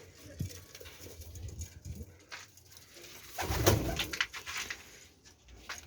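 Small pet birds coo and twitter close by in a room, soft repeated calls with light patter and rustling, one louder burst of cooing in the middle.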